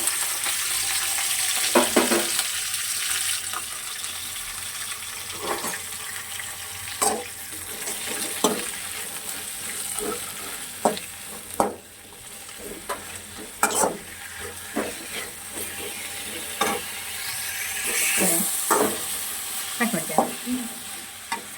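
Tomato-onion paste frying in oil in a kadai, a continuous sizzle punctuated by repeated scraping stirs of a spatula at irregular intervals, close and clear.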